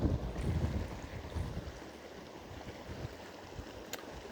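Outdoors beside a river, a low rumbling wash of wind and flowing water fills the background, soft and continuous, with no voices.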